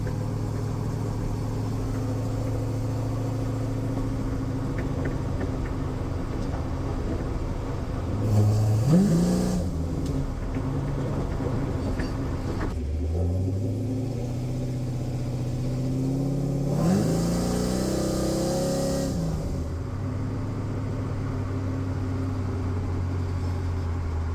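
An FFR 33 hot rod engine idles with a low steady rumble, then rises in two separate revs that climb and fall back, heard close by with no voices.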